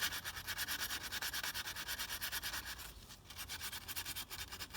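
Reamer turned by a chuck run backwards, scraping rust from inside a Detroit injector tube, a steady rhythmic rasping scrape, fairly quiet and close, with no talking.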